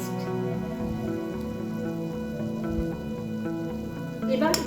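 Mint and coriander leaf paste frying in a pan, a steady close sizzle with soft crackle running throughout, growing briefly louder at the very end.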